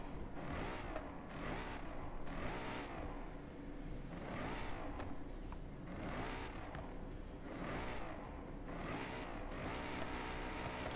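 A car engine in a racing video game revs repeatedly up toward the rev limiter, rising surges of engine roar in several bursts, loud and close, with no talk.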